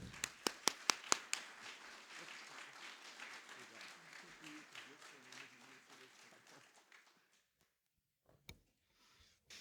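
A few loud, sharp claps open a seminar session's welcoming applause for a speaker, then a soft, diffuse clatter of an audience clapping fades out under murmuring voices, ending with a single late clap.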